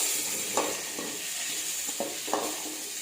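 Onion and small tomatoes sauté in a pan for banana stem stir-fry, a steady close sizzle with a few light clinks and scrapes of a spoon stirring.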